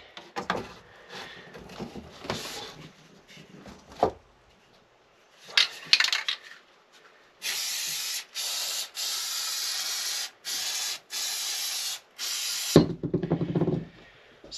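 Several short bursts of spray glue hissing onto a camper wall patch, close and steady, following some handling clatter, then a low thud at the end; no talk.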